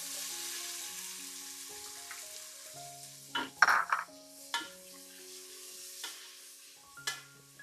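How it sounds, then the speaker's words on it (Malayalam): Chopped onions, three in all, sizzle steadily in a pan with whole spices such as cardamom, cinnamon, star anise and fenugreek, with a few sharper clatters and stirring bursts in the middle. "3 സവാള ചെറുതായിട്ട് അരിഞ്ഞത് നമ്മൾ ഇടുന്നുണ്ട്"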